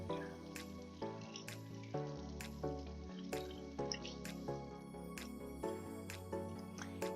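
Water drips and splashes in a sink while eyelash extension tools are rinsed. The drips come as a quick, irregular series of close, clear plops at low volume.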